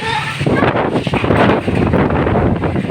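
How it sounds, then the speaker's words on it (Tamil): Strong storm wind with rain in Tiruvannamalai district roars and buffets against the microphone, a loud continuous rush with gusts, and someone speaks briefly over it. "இங்கே பாருங்கள் எவ்வளோ காற்று பாருங்கள்"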